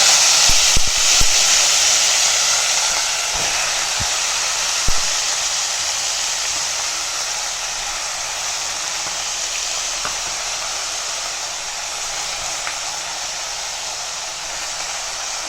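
Urad dal and spinach frying in a hot pan give off a steady, loud sizzling hiss throughout, with a few faint clicks near the start.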